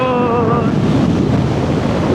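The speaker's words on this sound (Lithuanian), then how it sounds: "Toks, žinokit, šoninis vėjas" Strong crosswind batters the microphone while riding a motorcycle, a loud, constant blustery roar of wind noise with a brief tonal hum at the start and no talk.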